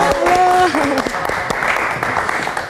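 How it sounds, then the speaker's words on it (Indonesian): A studio audience on a late-night talk show claps for guest Adifa. The applause is brief and mixed with a voice at the start, then settles into scattered clapping that fades. "kita berikan tepuk tangan sekali lagi untuk Adifa"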